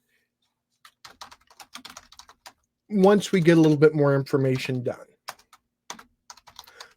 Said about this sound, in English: So I'm just typing that in there for the time being.